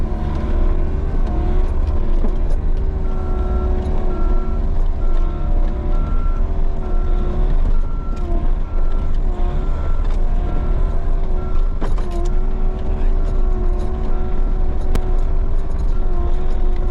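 A skid steer engine runs steadily while spreading mulch along a trail, a loud continuous diesel drone with a repeating reversing beep and clanks throughout, no voices.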